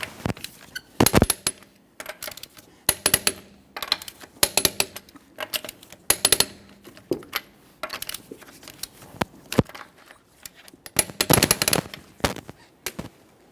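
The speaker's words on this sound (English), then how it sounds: "torque each one of your lug nuts in a crisscross manner" A torque wrench clicks as lug nuts are tightened in a crisscross pattern on a Toyota Sienna wheel, sharp ratcheting bursts and clicks in irregular clusters separated by short pauses, close and loud with no speech.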